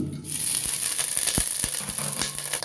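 Five peeled boiled eggs, lightly scored, go into hot oil in a pan for egg biryani, setting off a steady, close crackling sizzle with a few sharper pops throughout.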